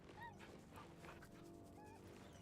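A dog in the video game Baldur's Gate 3 whimpers with several high, thin whines and yips, close and fairly quiet, over a low background.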